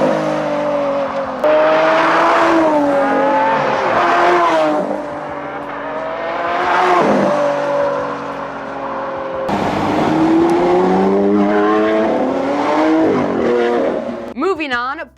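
A Lamborghini Aventador supercar, a top-of-the-line model capable of about 220 mph, drives at speed, its engine loud and close and rising and falling through several sustained revving passes, with a brief rough burst at the end.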